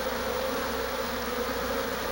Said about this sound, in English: other bees stand in the doorway, fanning their wings to create a breeze